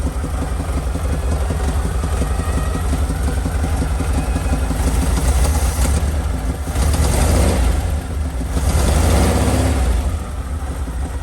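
A carbureted engine, just started after a new fuel line was fitted, runs at a very low idle with a loud, steady, lumpy rumble. It swells briefly a couple of times, and no one speaks.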